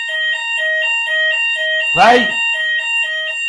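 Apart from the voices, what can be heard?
smoke alarm going off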